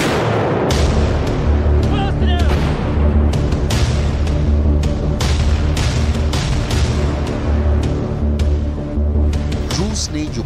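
Attacks on Kyiv bring a loud, dense run of heavy booms and sharp blasts, repeating closely over a constant low roar.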